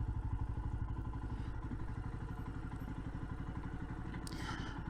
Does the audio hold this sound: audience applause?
no